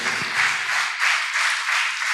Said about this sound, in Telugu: చప్పట్లు కొట్టాలి గట్టిగా